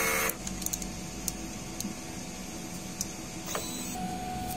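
A DTF printer runs a print head cleaning cycle, a quiet whirring mechanism broken by a few sharp clicks and brief motor bursts, all fairly close and soft.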